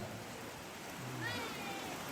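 Rain falls steadily outdoors at a gathering in Tambunan, North Toraja, giving a constant broadband hiss at low level, with faint voices and background noise underneath.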